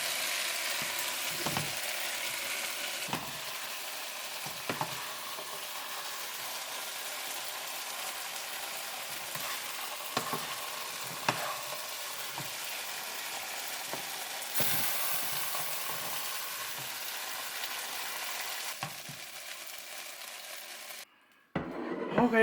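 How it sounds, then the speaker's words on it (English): Lobster and mixed vegetables sizzle steadily in a hot stir-fry pan, a continuous close frying hiss broken by occasional clinks and scrapes of a utensil, with no talk. "this is stir fry lobster with mixed vegetable."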